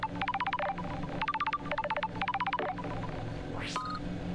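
In-game phone call in Paradise Killer: several quick bursts of rapid electronic ringing tones, evenly spaced, followed by a short rising synthetic sweep.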